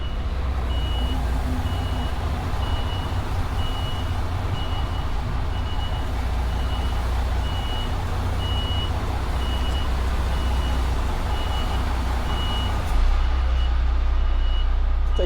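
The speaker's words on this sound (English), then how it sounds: "Trying to get the trailer at a good angle before we start the reverse." A reversing truck towing a trailer sounds a steady, evenly spaced series of backup beeps over a continuous low engine rumble, heard up close from the cab.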